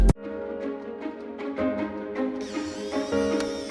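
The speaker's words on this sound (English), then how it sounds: "That's the sound of your door automatically unlocking as you return home." A smart door lock, the Bosma Aegis, unlocking automatically on return home: a sharp click, then a bright electronic chime with ringing melodic tones that rise and sustain, clear and close.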